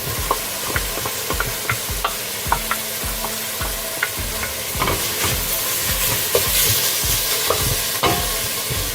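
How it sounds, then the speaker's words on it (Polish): Onion is tipped into bacon sizzling in olive oil, giving a continuous frying hiss with frequent rhythmic scraping and tapping of a spoon stirring the pan. "Teraz do tego podsmażającego się boczku dodaję cebulę."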